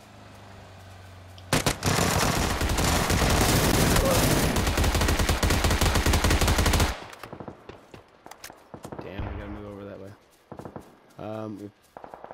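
Rapid sustained automatic gunfire in a PUBG-style battle royale game, loud and close for several seconds, then breaking off into scattered shots and sparse bursts as a voice talks over the later part.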